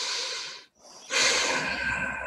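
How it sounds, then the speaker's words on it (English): Deep belly breathing during a self-massage exercise: a slow, airy inhalation, a brief pause, then a longer, louder breathy exhale close to the microphone, with no talking. "just take some deep breaths into your belly"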